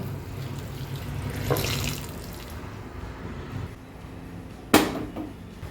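A short splash of water runs into a pot of turmeric-and-salted moth beans, then fades, followed by a sharp clunk of a utensil near the end.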